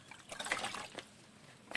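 Water poured from a container for hand washing outdoors at a ranch, splashing and trickling in short uneven bursts, close by and fairly soft, with no talking.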